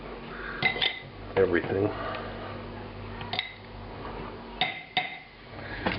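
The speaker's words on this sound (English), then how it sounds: "stir it around just a little bit, make sure everything's evenly coated" Lamb korma being stirred in a pot, with scattered clinks and scrapes of a utensil against the cookware and a voice speaking between the knocks.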